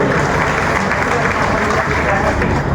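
A loud, dense wash of crowd clapping fills the space continuously for a motivational business success gathering honoring a guru, close and steady without breaks.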